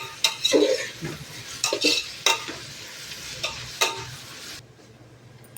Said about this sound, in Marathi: कांदा परतायला ठेवलाय मोठा मोठ्या मी कांदा परतून घेणार आहे